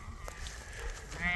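A sheep bleats in a farm pasture: one short, wavering bleat near the end, heard at middle distance over steady outdoor wind noise.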